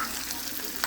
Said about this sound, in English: So I'm frying it. I'm frying the meat already.